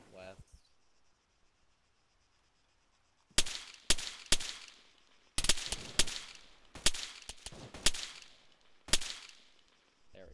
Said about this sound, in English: Something heavy is shooting at us.